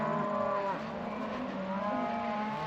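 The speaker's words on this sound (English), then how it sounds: "Cows going berserk." Several cows moo loudly in a farm paddock, long drawn-out bellows overlapping one after another with no talk.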